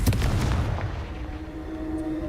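A Confringo fire-curse blast in Hogwarts Legacy goes off as a loud, close boom that fades into a rumbling tail with a faint ringing tone.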